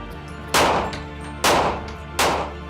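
A Vector submachine gun fires into a bulletproof vest sample: three separate loud sharp bursts about a second apart, each with a ringing decay, close and with no talk.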